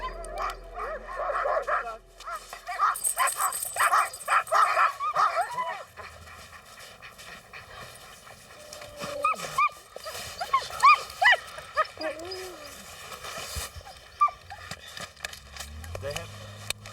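Excited sled dogs in Iceland, a harnessed pack yipping, barking and whimpering in a busy overlapping chorus close by, with a voice talking over them.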